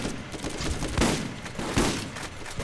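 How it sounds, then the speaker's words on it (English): Shotgun blasts fired in the video game Borderlands during co-op play, two sharp reports about a second apart over a dense, noisy game background. "I want to try this shotgun out."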